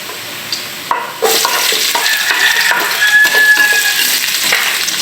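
Garlic and onion sauté in hot oil in a pan while being stirred, giving a close, continuous sizzle broken by scraping and clinking strokes from a utensil, with no talking.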